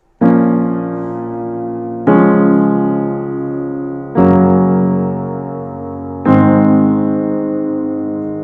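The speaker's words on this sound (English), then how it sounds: "it is a mellow upright Bösendorfer C130" Four mellow chords on a Bösendorfer C130 upright piano, sustain pedal down, struck one after another at an even, slow pace, each ringing out before the next.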